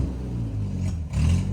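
A 1964 Jeep CJ5 engine that had been stuck rumbles at idle, then revs up in a low throaty surge as the Jeep is put in gear for its first drive, loud and close.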